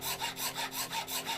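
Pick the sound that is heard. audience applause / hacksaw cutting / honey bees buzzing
hacksaw cutting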